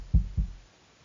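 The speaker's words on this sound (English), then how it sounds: "As soon as you start hearing that heartbeat" A heartbeat cue in the strategy game RISK: Global Domination, two deep low thumps in a quick lub-dub pair, close and clear, then fading into quiet.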